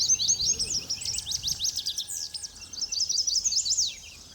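Wild birds sing in the Maine wilderness, with rapid high chirping phrases and trills repeating for several seconds in quiet open air, fading near the end.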